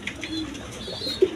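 Pigeons at a breeding farm coo softly and low nearby, with gentle repeated calls over a faint background murmur.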